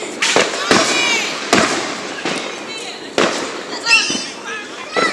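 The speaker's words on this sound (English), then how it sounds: "Fireworks!" Fourth of July fireworks burst repeatedly with sharp cracks followed by crackling and whistling trails, loud and nearby, with voices reacting in between.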